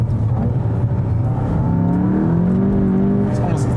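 A 2019 Volkswagen Jetta GLI engine revving with its quiet exhaust mode selected, a loud, close drone whose pitch climbs and swells in the middle and then settles, with no one talking.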